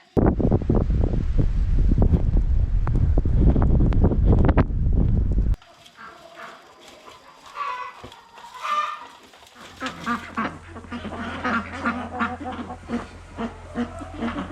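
Loud wind buffets the microphone at first, then roosters and other fowl call and honk in the background with scattered cackling; no clear crow stands out.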